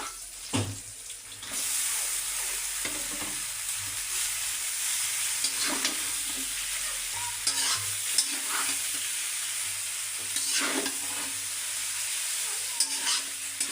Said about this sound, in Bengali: ভেজে নেওয়ার পরে এখন দিয়ে দেবো পাস্তাগুলো